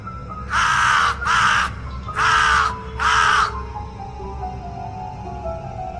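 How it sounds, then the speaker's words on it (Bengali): A crow caws four times from a tree beside an old iron gate, each caw loud, harsh and near, in two pairs with a short gap between, then quiet background. "ভয়ঙ্করভাবে কাক ডাকছে"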